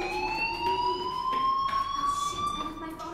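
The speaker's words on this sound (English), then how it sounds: "do you hear that fire alarm? That means you should be outside." Fire alarm ringing in the video game Life Is Strange, a steady electronic tone with sliding pitch that stays loud throughout, with a voice talking faintly beneath it.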